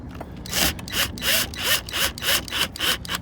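Metal lug nuts being threaded by hand onto the studs of a car wheel during a driveway tire change, a scraping, ratcheting rub repeating in six even strokes about half a second apart, close and fairly loud with no talk.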